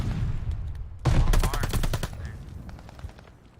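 Gunfire from a Call of Duty multiplayer hardpoint match: a loud burst of rapid automatic shots lasting about a second, then fading, heavily processed game audio with no talk.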